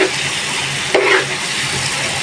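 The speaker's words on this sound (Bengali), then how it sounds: "মাছের ডিমটা দিয়ে দেবো ভালোভাবে, এটার সাথে কষিয়ে তারপর আস্তে আস্তে রান্না করব।" Rohu fish roe frying in a pan, a steady broadband sizzle with one short louder stir or scrape partway through, close and alone.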